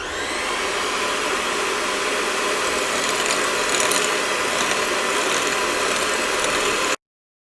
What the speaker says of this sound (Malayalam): ബീറ്റർ വെച്ചിട്ട് ചെയ്യുമ്പോൾ ഫസ്റ്റ് ചെറിയ സ്പീഡിൽ നിന്ന് തുടങ്ങുക